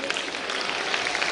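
Grandparents in the audience at a Janmashtami and Grandparents Day school celebration clap in a sustained burst of dense, steady applause from a crowd, fairly close and continuous.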